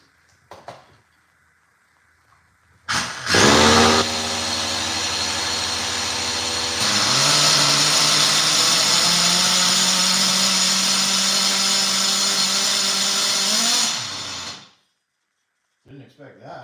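A small RC car engine given throttle, starting with a sharp burst, then holding a loud buzzing whine that climbs to a higher pitch before cutting off suddenly, with faint talk at the start and end.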